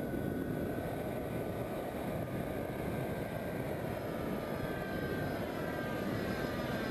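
A Warbler UAV model airplane with a Turnigy 3628-8 1000 kV electric motor in flight, a constant loud whirring drone holding steady throughout with no voices.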